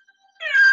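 One loud, close cat meow that starts abruptly partway through and holds its tone to the end, with nothing else heard.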